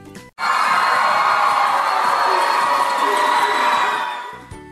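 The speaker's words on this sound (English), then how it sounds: "If you agree with this lookalike," A crowd of high school students at a lookalike contest screams and cheers loudly and continuously for about four seconds, then fades out.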